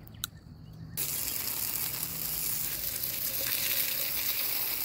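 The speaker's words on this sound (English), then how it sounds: "you just take a garden hose and that'll remove quite a bit of it" A garden hose abruptly starts spraying water onto an oryx skull being cleaned for a European mount, giving a steady, close hiss that carries on with little change.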